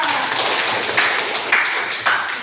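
Brief scattered clapping in a classroom during a teaching-model lesson, a few claps from a small group merging into a light, uneven patter that stays steady and close for a couple of seconds.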